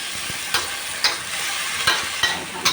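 Bean sprouts and tofu stir-fried in a pan, a steady sizzle broken by sharp scrapes and clacks of the spatula every half second or so, close and alone without talk.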